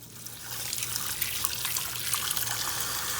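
Tap water runs steadily into a sink, rinsing freshly cleaned silver, a close, continuous splashing and trickling flow with no voices.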